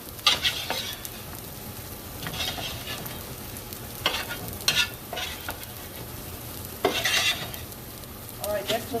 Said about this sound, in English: I'm going to start doing my potatoes, saute that with peppers and onions also.